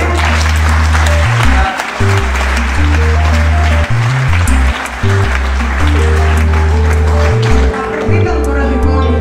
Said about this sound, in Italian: Un buon applauso, dottore.